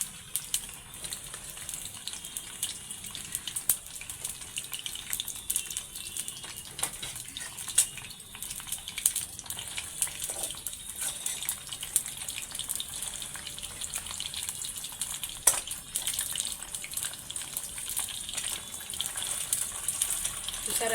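Prawns crackle and spit in hot oil with a dense, steady sizzle that stays close and fairly loud throughout, and a voice speaks briefly over it.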